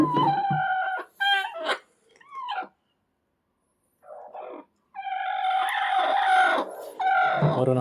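A hen clucks and calls in short bursts close by, with pauses of silence between them and a longer run of loud fowl vocalizing near the end.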